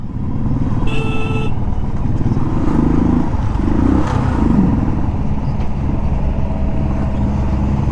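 Loud, continuous engine rumble of a motorcycle on an uphill road among trucks, with a brief horn toot early on and steady road noise throughout.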